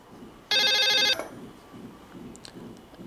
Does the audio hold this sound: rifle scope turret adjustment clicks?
no